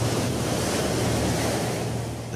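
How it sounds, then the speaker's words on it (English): Ocean surf rolls in a continuous, loud roar of breaking waves with windy rush, steady throughout with no voices. "they can generate killer waves called tsunamis"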